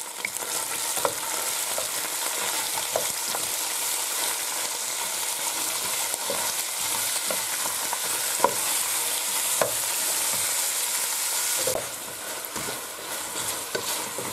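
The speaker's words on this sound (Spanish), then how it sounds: "Echamos el pimiento verde y echamos la cebolla y lo tenemos que rehogar." Green pepper and onion fry in a pan with a steady, loud sizzle throughout, while a utensil scrapes and taps against the pan in irregular stirring strokes close by.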